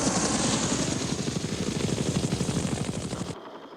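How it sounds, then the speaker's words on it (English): A UH-1 Huey infantry transport helicopter thunders past close and loud, its rotor chopping in a rapid, steady rhythmic pulse over engine roar before cutting off abruptly. "the basic infantry transport helicopter was the UH-1 Huey"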